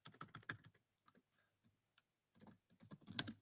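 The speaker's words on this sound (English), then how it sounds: "Let me just type it in." Keyboard typing on a computer keyboard in a quiet room, coming in two short bursts of close, quick key clicks separated by a pause.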